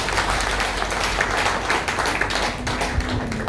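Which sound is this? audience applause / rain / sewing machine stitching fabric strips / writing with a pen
audience applause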